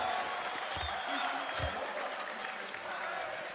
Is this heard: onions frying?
no